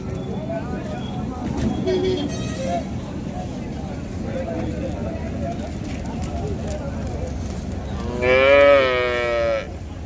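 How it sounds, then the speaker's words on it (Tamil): Near the end, a native cow at the Vaniyambadi cattle market lets out one loud, long moo over a busy background of chatter and market bustle. "நம்ம நாட்டு பசு மாடுங்கள்லாம் வந்து நிறைய வரும்"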